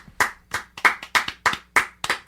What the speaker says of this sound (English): Vegas, Joy Vegas, clap for him, please.